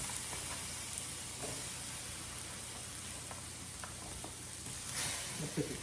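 Onions sauté in an 11-inch Saladmaster skillet, a steady close sizzle and hiss running evenly throughout with a few faint clinks of a utensil.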